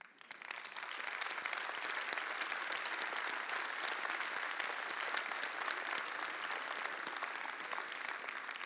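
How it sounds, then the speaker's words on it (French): A conference audience aboard a boat breaks into steady, dense applause that swells quickly and holds evenly throughout, with no talking over it. "Alors je vous invite à ce que vous vous applaudissiez collectivement."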